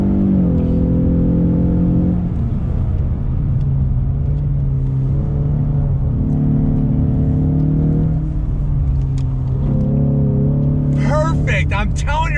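A 2020 Ford Mustang EcoBoost High Performance Pack driven hard through turns, its engine droning steadily with rising and falling pitch as it shifts, loud and close throughout, while a voice talks over it.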